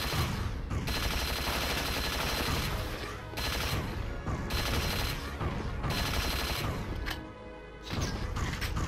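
Weapons fire in the video game Unreal, including a grenade launcher, in a dense, loud barrage of blasts and crashes with short gaps in the shooting.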